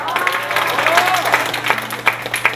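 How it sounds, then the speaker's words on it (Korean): Audience applause at a Korean church youth event after a quiz answer, a dense patter of clapping with voices talking and calling out over it. "네, 박수."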